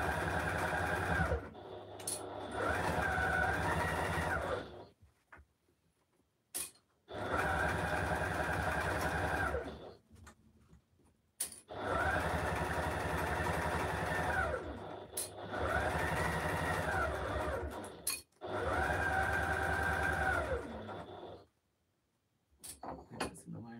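A domestic sewing machine stitches a straight seam through foam for a fabric basket, running in four steady buzzing runs of several seconds each with short pauses and handling clicks between them.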